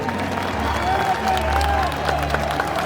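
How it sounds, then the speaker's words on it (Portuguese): A crowd at a political rally on Avenida Paulista claps and cheers for Carla Zambelli, busy clapping mixed with shouts and a low amplified hum, voices audible through the noise. "Um aplauso para Carla Zambelli também."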